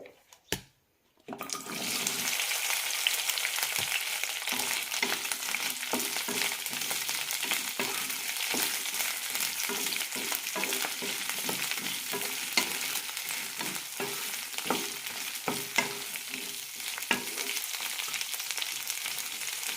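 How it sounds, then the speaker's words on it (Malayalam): Okra fries in coconut oil over low flame and gets stirred, a steady close sizzle starting after a brief quiet moment and a couple of knocks, with repeated utensil scrapes and clicks through the crackle. "ലോ ഫ്ലെയിമിലിട്ട് നന്നായി വറുത്തെടുക്കാം."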